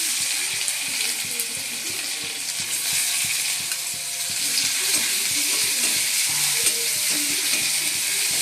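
Onions tipped into hot oil already spluttering with cumin seeds for a Bengali fish curry give a loud, steady, dense sizzle that holds for the whole stretch, with soft low tones running faintly underneath.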